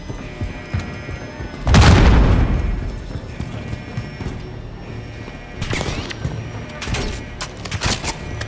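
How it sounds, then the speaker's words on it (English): Grenade explosions in the Call of Duty MW3 campaign: one loud, close booming blast with a long rumbling tail, followed by sharper, fainter bursts and crackling debris. "why is the computer throwing all these grenades and stuff?"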